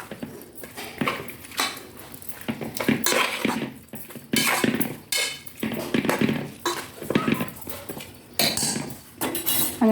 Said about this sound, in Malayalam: അതുകൂടെ ചേർത്ത് നമുക്കൊന്ന് മിക്സ് ചെയ്യാം.